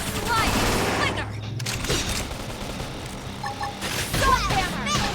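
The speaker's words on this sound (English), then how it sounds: "Topple them with gunfire!" Gunfire in the video game Xenoblade Chronicles X, dense overlapping shots and blasts in a busy battle mix, loud and continuous with music and effects layered over it.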